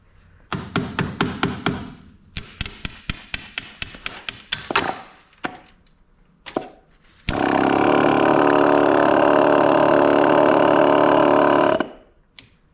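A Yamaha Silverado fuel pump suspected of being bad, first a string of sharp ticking clicks, then a steady loud whirring hum for several seconds that cuts off abruptly, close up with no talking.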